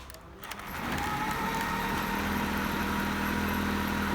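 A drill turning a 10 kW neodymium-magnet alternator spins up after half a second and holds a steady, rising mechanical whir with a low hum beneath it, continuous and close; no speech.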